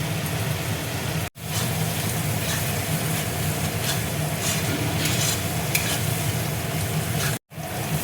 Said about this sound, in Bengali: মশলাটা দেখো ভালো করে কষিয়ে নেব যাতে টমেটোর কাঁচা গন্ধটা চলে যায়।